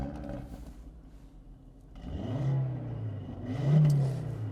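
A 2018 Audi RS3 engine idles on a cold start, then revs twice in close succession, each rise swelling into a loud throaty surge before settling back, heard from close by with no talk.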